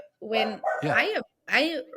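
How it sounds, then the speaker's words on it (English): A dog barks and yips in three close, loud bursts with a whiny, harmonic tone, heard indoors during a podcast conversation. "sorry about the dog."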